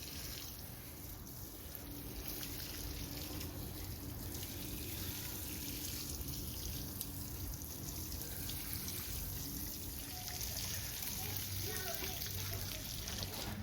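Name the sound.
watering a newly planted hydrangea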